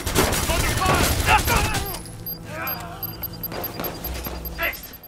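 Gunfire bursts in the video game Watch Dogs 2, rapid loud shots in a dense opening flurry that thins into scattered reports, mixed with game effects and someone talking over the action.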